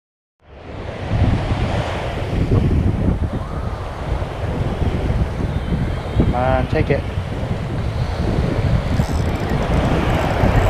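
Surf breaks on a beach under strong gusty wind, loud and continuous rushing water with heavy wind buffeting on the microphone.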